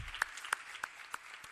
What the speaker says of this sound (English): Can we have a big round of applause for these dignitaries